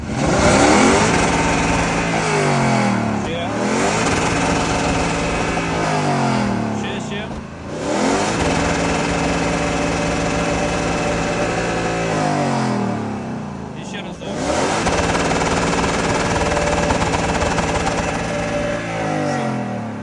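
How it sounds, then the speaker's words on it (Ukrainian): A Lexus LX460 engine, just given a hydrogen carbon-cleaning treatment, revs hard in three loud, sustained blips that climb and fall in pitch, with brief dips between them and a voice in the workshop. "фінальна прогазовочка"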